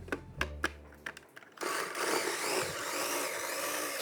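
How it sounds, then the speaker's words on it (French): Fresh blackberries puréed in a blender for a frozen blackberry-almond parfait: a few knocks and a low motor hum, then a loud, steady, dense whirring roar that runs on to the end. "on va mixer le tout"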